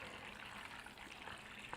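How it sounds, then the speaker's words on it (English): A watering can pours a soft, steady trickle of water into a 10-20 seed tray, faint and close, with no talking. "I would essentially just fill this up with water"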